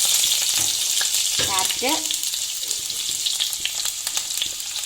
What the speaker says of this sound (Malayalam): ആദ്യം തന്നെ ഞാൻ നമ്മുടെ ക്യാപ്സിക്കം ഒന്നിട്ട് കൊടുക്കുവാണ്